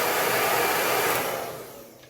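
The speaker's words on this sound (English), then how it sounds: "I always heat up my lashes with a blow dryer, so let me do that." A blow dryer runs at full power to heat an eyelash curler, a loud, close, steady rushing whoosh that fades as it is switched off.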